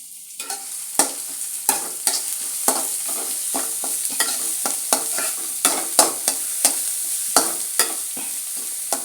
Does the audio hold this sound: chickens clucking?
no